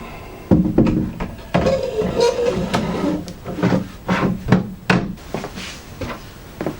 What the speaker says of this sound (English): our top drawer can go back in.